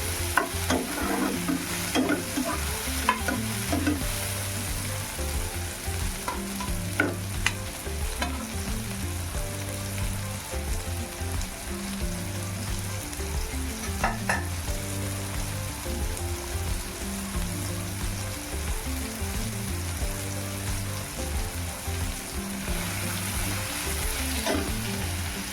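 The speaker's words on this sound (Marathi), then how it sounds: "टोमॅटो टाकल्यानंतर 1 मिनिट परत ते टोमॅटो चांगलं शिजू द्यायचं आहे आपल्याला" Onion and finely chopped tomatoes sauté in a pan while being cooked for spinach bhaji, a continuous close sizzle and frying hiss with stirring and occasional utensil scrapes, steady throughout with no talking.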